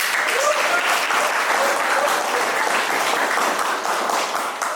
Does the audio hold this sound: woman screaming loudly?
no